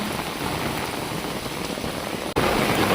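Heavy monsoon downpour lashing down in a Gujarati village lane flooded with runoff, a dense, loud, steady roar of rain with a brief dip near the end before it surges back just as hard.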